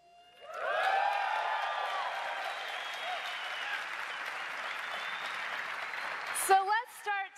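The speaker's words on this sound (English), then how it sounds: "That's where I want to hear the applause." A large audience at the Microsoft E3 press conference bursts into applause with cheers and whoops, sustained for several seconds before a voice starts speaking.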